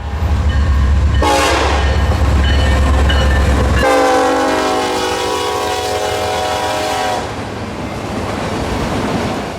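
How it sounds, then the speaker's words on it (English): A southbound freight train roars past nearby through town, its horn blaring loudly for several seconds over the rumble of rolling cars. "train number 1 hurtled through town."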